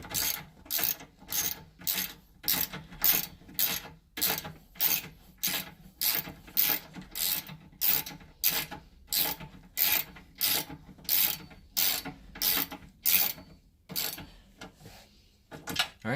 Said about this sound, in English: we've tightened down all 4 bolts, including the ones in the back